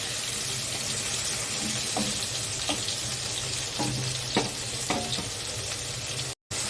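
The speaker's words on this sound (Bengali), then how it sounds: "সবজিগুলো ভালোভাবে ভেজে নিতে হবে, তবে শাকে ভালো টেস্ট আসবে।" Vegetables for a Malabar spinach and fish-head dish fry in a pan, a constant sizzle broken by several soft scrapes and knocks as they are stirred, with no one talking.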